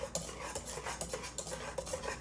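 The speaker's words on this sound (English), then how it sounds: "Yep, keep stirring." Crème brûlée custard mixture being stirred in a pot, a quiet rhythmic series of utensil scrapes and clinks, close and soft, no talking.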